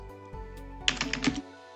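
A command typed on a computer keyboard: a quick close burst of keystrokes lasting under a second, then quiet.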